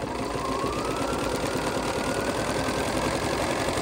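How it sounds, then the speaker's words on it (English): A Bernina sewing machine stitching at a short stitch length, its motor and needle running in a steady, unbroken mechanical hum and rapid chatter, close and fairly loud with no talking. "and now we're stitching."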